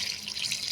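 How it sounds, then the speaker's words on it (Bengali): Cold water runs steadily over freshly boiled potatoes, a continuous close hiss of splashing water. "এখন আমি ঠান্ডা জল দিয়ে ঠান্ডা করে নেব আলুগুলো।"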